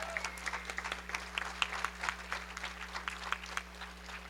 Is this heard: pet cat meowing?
no